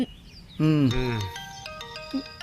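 A mobile phone rings with a melodic electronic ringtone, a series of clear stepped tones that follow a brief spoken voice and continue steadily at moderate loudness.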